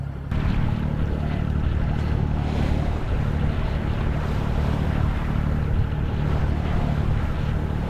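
Steady wind noise and rushing water while sailing a steel yacht in 13-knot wind off Svalbard, a continuous loud broadband roar with low rumble throughout, no voices.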